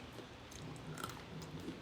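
Close, quiet chewing of crunchy toffee-coated peanuts, with soft irregular crunches and bites in a loose rhythm and no talking.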